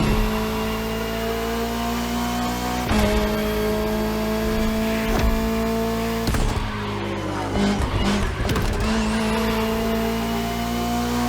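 Race cars in The Crew Motorfest, among them a Ferrari 488 GT3, McLaren Senna GTR, Bugatti Bolide and Lamborghini Essenza, hold a loud, steady engine drone with shifting revs and brief tire squeals, close and continuous.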